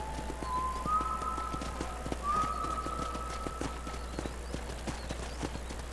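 Hooves clip-clop at a steady walking rhythm as a horse is ridden in Red Dead Redemption, even and fairly close over a low ambient drone, with a couple of brief whistled tones above.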